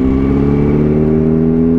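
A motorcycle engine cruising in sixth gear at low RPM, a steady, even hum with a smooth low drone and no revving, close and continuous throughout.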